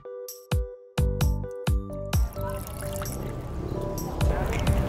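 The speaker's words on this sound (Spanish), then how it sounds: "agrega el agua dentro del recipiente con la fécula de maíz" Water poured into a bowl of cornstarch, starting with several separate splashing drips and trickles and then settling into a steady pouring stream, close and fairly quiet.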